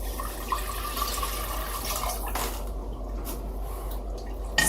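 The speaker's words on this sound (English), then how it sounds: "Now we're going to add the water, 3 cups to start with." Water pours steadily into a pot for cabbage soup, a continuous splashing stream heard close by that cuts off partway through, leaving faint kitchen noise.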